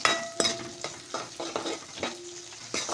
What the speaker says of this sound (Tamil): வெங்காயம் வந்து நல்லா பொன்னிறமாக வதங்கட்டும்.